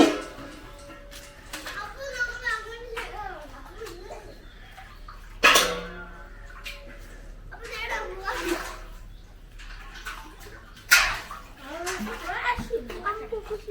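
Water poured over a child during an outdoor bath, with a few sudden splashing pours standing out among children's voices and adult talk.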